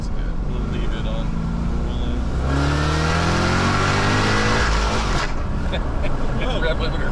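A 700-horsepower Cadillac CTS-V wagon engine revs hard, climbing steeply in pitch up to the rev limiter and holding there before dropping back, loud and close, with a voice heard over it.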